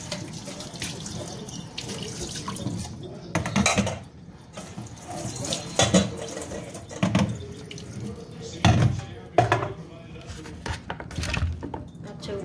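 Tap water runs into a kitchen sink while chopped carrot is washed, with uneven splashing bursts and light clatter of dishes and utensils, fairly close; a voice is faintly present at times.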